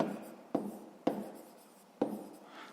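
Pen or chalk strokes during a fifth-grade maths exercise, several sharp onset marks at intervals followed by scratchy trailing strokes, close and fairly quiet.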